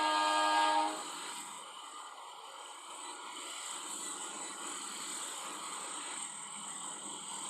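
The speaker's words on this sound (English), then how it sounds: "Sound horn." A train horn sounds in an Indonesian railway simulation game, a loud tonal blast lasting about a second, then fading into a steady rumble of the moving train, with no talk.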